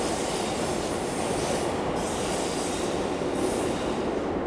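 An old electric train at the Sobu Line underground platform of Tokyo Station rumbles steadily with a broad roar and wheel noise, a faint rhythmic clatter running through, close by and continuous.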